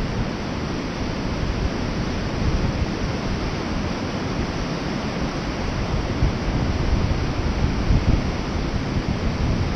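Strong wind at Karklė rushes steadily across the microphone for the whole stretch, a dense, constant roar with gusty buffeting and no voices.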